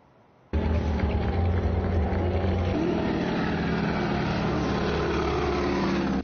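A propeller airplane performing wing walking at an air show starts abruptly and drones loud and steady, with a continuous engine and propeller roar and a slight shift in pitch midway.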